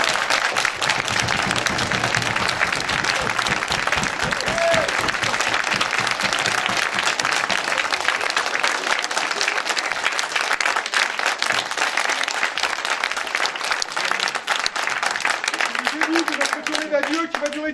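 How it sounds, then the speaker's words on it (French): A crowd applauds loudly and steadily throughout, dense clapping at constant strength for the whole stretch, with a voice briefly heard near the end. "n profiter avec la présence de Jean Anselme, que je vous demande d'applaudir très fort encore."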